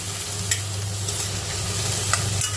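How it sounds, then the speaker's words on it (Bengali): Chopped banana stem sizzles steadily in hot coconut oil in a pan, seasoned with green chilli, salt, sugar and turmeric, with a few sharp stirring scrapes standing out over the constant frying hiss. "এটা থোড় নারকেল তেল দিয়ে থোড় ভাজা করবো"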